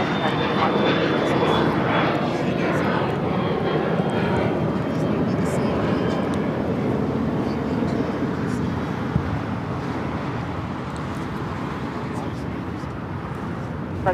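Heavy jet taking off from runway 25 left at LAX, a continuous loud engine roar with wind buffeting and a high whine, gradually easing, with a voice speaking over it.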